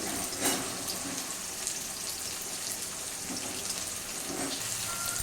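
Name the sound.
onions sautéing in a pan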